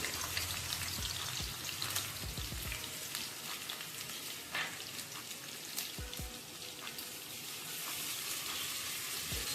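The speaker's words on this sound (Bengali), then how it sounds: "দিয়ে দিলাম রসুন কুচি" Chopped garlic frying in hot oil in a pan for a Bengali garlic-tempered masoor dal, giving a steady, dense crackling sizzle throughout with scattered sharper pops, close and fairly loud, no voices.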